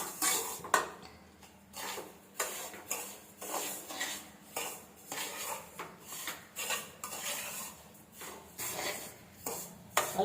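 Semolina (rava) being roasted in a pan for laddu, with a steady run of quick metallic scraping and clinking as a spoon stirs the dry grains against the pan, close and fairly quiet with no voices.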